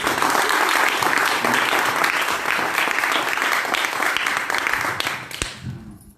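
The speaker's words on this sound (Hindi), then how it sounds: "तालियां हो।" Audience applause at a seminar: loud, dense clapping from a crowd filling the room, sustained for about five seconds before tapering off with a few final claps.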